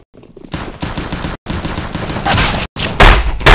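Rapid automatic gunfire from a weapon in the video game CS:GO, loud bursts in quick succession separated by brief gaps.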